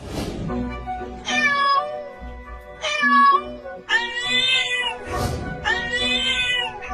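A cat meows loudly and insistently, giving four long drawn-out cries in a row with short pauses between them, close by and clear, with no talking over it.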